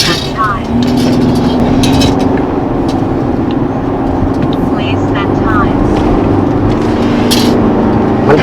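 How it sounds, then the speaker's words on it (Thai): A Ford Everest SUV with tuned suspension swerves suddenly on a road. A loud, steady rumble of engine and road noise runs throughout, with voices talking over it. "นี่จำลองเหตุการณ์หักกระทันหันลบรถ"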